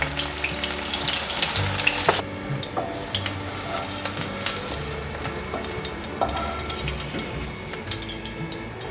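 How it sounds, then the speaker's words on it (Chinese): Tofu pan-fries slowly in oil until golden, a close, soft sizzle with crackles and occasional clinks of a utensil stirring in the pan, no voices. "继续让豆腐慢慢的煎成金黄色"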